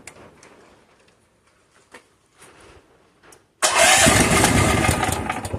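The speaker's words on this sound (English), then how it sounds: "Let's see if that runs now. Yeah, great, that's running." Upgraded engine cranking and catching abruptly after several faint clicks and small mechanical sounds, then running loudly and steadily at close range.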